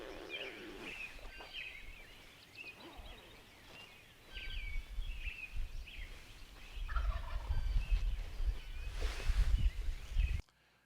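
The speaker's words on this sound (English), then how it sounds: "He stands there for a few minutes and gobbles at 100 yards." Wild turkey in the field during hunting season, gobbling several times at about 100 yards, faint and distant rattling calls among other bird chirps, with wind or handling rumble growing louder in the second half.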